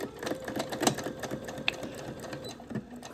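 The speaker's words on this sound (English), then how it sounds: "now I'm going to start sewing" A domestic sewing machine runs in steady bursts as it stitches a seam of at least a quarter inch in fabric, with close mechanical rattling and a few sharper clicks, no voices present.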